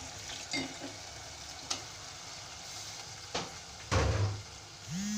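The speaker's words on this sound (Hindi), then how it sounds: "अब मैं इसमें ये टमाटर डाल रही हूँ।" Tomatoes dropped into keema sizzling in a pan for matar keema, giving a steady fry hiss with a few sharp clatters and a louder burst of sizzle near the end, close up with no talking.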